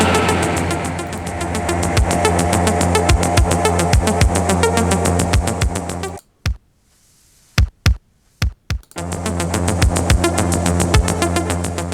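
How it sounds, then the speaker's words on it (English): Roland 707 drum machine beat in a dance remix, sharp regular kick and percussion hits over a full backing mix, which cuts out briefly to leave a few isolated drum hits before the full groove returns. "let's try to mute this Linn drum and hear what the 707 would have sounded like on this remix"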